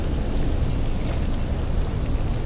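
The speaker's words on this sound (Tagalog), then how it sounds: "Malaki yung pagdaan ng barko." Large container ship passing near a fishing spot on the water beneath a bridge, a steady, loud low rumble with wash and wind noise, continuous throughout and with no talking.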